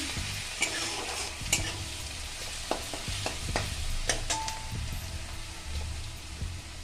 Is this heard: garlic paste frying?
yes